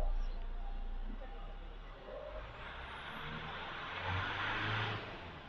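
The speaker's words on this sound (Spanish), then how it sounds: "Hacemos una aceleración suave." A Hyundai Santa Fe 2.5L diesel engine under gentle acceleration, a steady low rumble that swells slightly toward the end, heard close and continuous with no talking.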